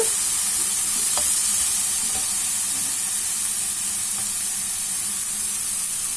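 Onions sizzle steadily in a hot pan, a constant crackling hiss with a few faint clicks of stirring, no talking.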